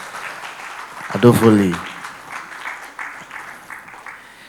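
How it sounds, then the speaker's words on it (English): An audience applauds for a counsellor, a moderate spread of clapping continuing after a man loudly announces a name, fading slightly as it goes on. "another round of applause for Counselor"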